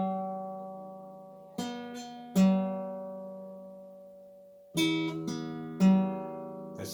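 A fingerpicked acoustic guitar plucks notes in small clusters, with the low and high strings struck together, each attack ringing out and decaying over long sustained tones, alone and close.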